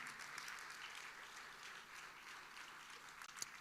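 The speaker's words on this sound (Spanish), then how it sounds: "Fuerte ese aplauso de alabanza al Señor." A church congregation applauds in praise, a dense, steady wash of many hands clapping at a distance, fairly soft and continuous throughout without speech.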